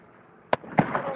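Canada Day fireworks in Thunder Bay go off in two distant pops about a quarter second apart, followed by a faint crackling rumble over low background noise.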